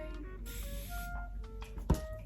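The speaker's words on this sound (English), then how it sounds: "and then I'm just going to spray" Hairspray misted onto curly hair during styling, a faint hissing spray of under a second, followed by light handling noises in a quiet room.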